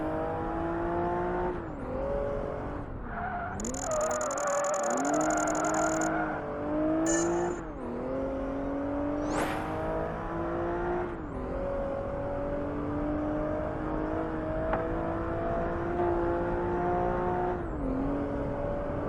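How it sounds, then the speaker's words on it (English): Racing cars in Project Gotham Racing 3 zooming through city streets, engines revving and whining up and down through gear changes, loud and continuous, with a brief synthetic tone blip partway through and no talk. "there's plenty of ways to look at sexy cars as they zoom around the cities."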